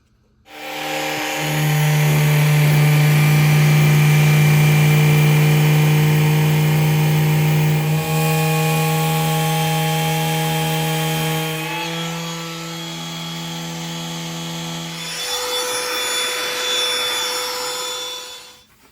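A power sander runs over painted wood trim fitted with 220-grit paper, giving a loud, steady motor drone that shifts pitch partway through and stops near the end.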